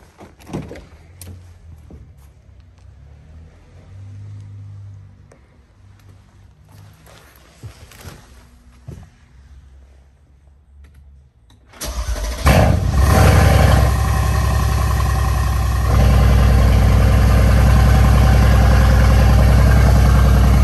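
Mercedes C63 car door thumps and faint handling noises in a quiet setting, then the engine starts and settles into a loud, steady deep idle close by.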